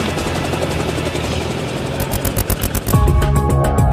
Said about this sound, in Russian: когда на вооружение советских ВВС поступили десантные вертолеты